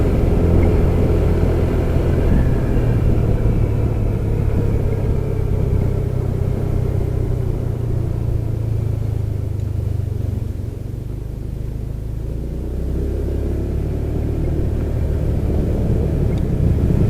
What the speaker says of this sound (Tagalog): Parang iba yung tunog ng ano natin ah, ng motor ah.